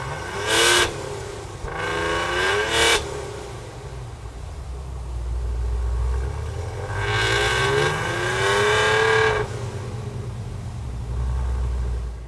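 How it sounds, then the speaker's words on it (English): A 2018 Maserati Levante's twin-turbo V6 engine revs hard twice, rising and falling in pitch, with a deep rumble idling between the bursts. "Even though it's a twin turbo and a V6, somehow they made it sound really good"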